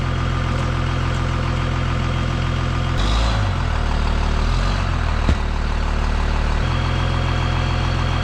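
A truck engine idles steadily and loud nearby while the driver backs up at a roadside spot where alloy rims are being stripped from tyres, the low drone shifting in pitch midway through with a brief thump.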